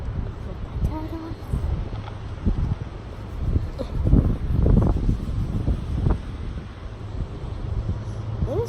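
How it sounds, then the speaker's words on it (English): Strong outdoor wind buffeting the microphone in low, rumbling gusts that swell and fade, peaking near the middle, with no talk over it. "It is so windy."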